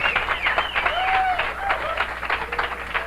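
A crowd applauding steadily, a dense wash of clapping at moderate volume that holds throughout.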